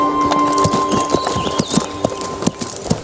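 Horse hooves clip-clop in a steady walking rhythm, each step sounding close and distinct. A faint whinny-like tone and some background noise sit underneath the hoofbeats.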